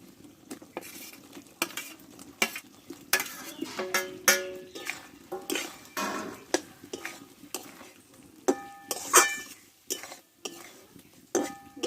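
Potato and pointed gourd stir-fried in a pan with spice paste for a vegetarian curry: close, repeated scraping and clinking of a spatula against metal in an irregular rhythm, with a light sizzle underneath and no talk.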